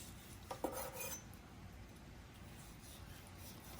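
A knife shaving thin slices of picanha, a Brazilian beef cut, on a board: a few light clicking scrapes and taps near the start, then soft quiet handling.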